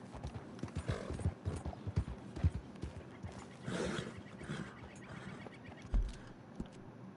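Horse hooves clip-clop in a quick, uneven rhythm, with a few heavier thuds mixed in, close and moderately loud, from the video game Red Dead Redemption 2.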